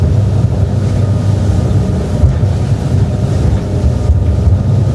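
Nimbus T11 motorboat running flat out at over 40 knots, a loud steady engine roar mixed with hull and wind rush, close and continuous throughout.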